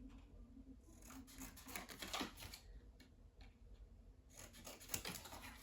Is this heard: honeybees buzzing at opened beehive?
no